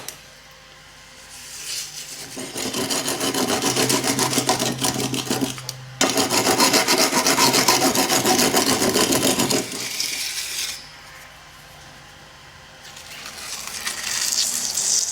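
Moulding plaster on a furnace lid made from a propane cylinder is smoothed with a close scraping rasp. The rasping comes in long sustained passes with brief breaks between them.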